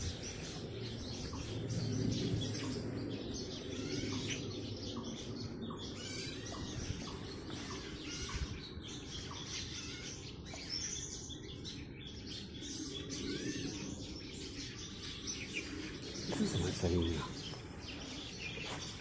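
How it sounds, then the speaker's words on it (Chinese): Birds chirp and call in a forest along a hiking trail, with insects faintly audible beneath. The birdsong is soft and scattered under light background noise, and low voices and footsteps come in at times. "这里虫鸣鸟叫"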